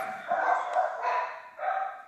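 Pet dogs bark and yip close by in three quick bursts, sharp and fairly loud, with no voices.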